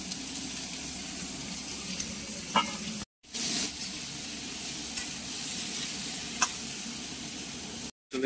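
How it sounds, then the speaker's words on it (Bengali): Thin strips of bitter gourd and pumpkin sizzle steadily in oil with onion and dried chilli, close and constant, with soft stirring scrapes and two brief cutouts in the sound. "পেঁয়াজটা একটু ভাজা হতেই দিয়ে দেওয়া হলো উচ্ছে আর কুমড়ো"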